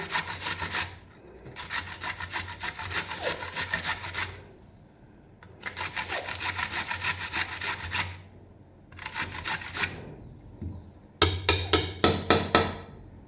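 Cabbage is grated by hand in rhythmic bursts of rasping strokes, several runs of quick scraping separated by short pauses, close and fairly quiet.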